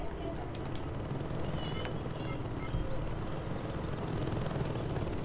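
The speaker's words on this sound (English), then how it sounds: "Okay, there's a chopper." A helicopter in the video game Saints Row 2 drones with a steady rotor wash over game noise, a constant loud whir filling the short stretch, with small chirping effects scattered on top.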